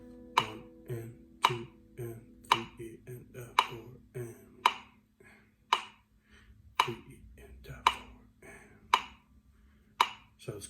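A metronome in a guitar lesson ticks at about 56 beats per minute, with crisp, evenly spaced clicks close up and some low, sustained tones sounding softly between them.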